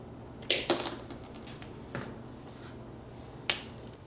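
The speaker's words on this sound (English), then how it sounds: "we're gonna just go a bit further and cut our cable like this." A cutter snips through an Ethernet network cable in a few sharp, close clicks spaced about a second apart, in an otherwise quiet room.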